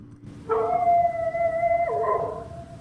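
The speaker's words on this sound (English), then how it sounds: "Dog again!" A dog howls in a radio drama scene, one long sustained wail that rises and then dips in pitch, close and loud, with no talk over it.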